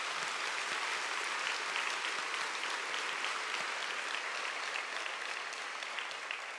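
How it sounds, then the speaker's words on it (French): Sustained applause from a large audience fills a college graduation ceremony hall, dense, even and continuous, with no voices over it. "ces derniers méritent une bonne main d'applaudissements pour le soutien qu'ils vous ont offert"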